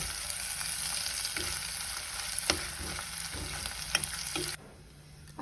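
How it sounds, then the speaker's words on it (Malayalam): Dried red chillies, onion and curry leaves fry in hot oil with a continuous loud sizzle, punctuated by sharp clicks of stirring against the pan before the sizzle abruptly drops away near the end. "അത് ചൂടായതിനു ശേഷം നമ്മൾ വറ്റൽമുളകും സവാളയും കറിവേപ്പിലയും കൂടി ഇതിലേക്ക് ഇട്ട് കൊടുക്കുക"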